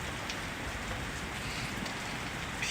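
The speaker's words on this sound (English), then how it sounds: "Just nice evening thunder shower." Steady rain from an evening thundershower in Boston, a dense even hiss of drops falling on surfaces throughout, close and continuous with no voices.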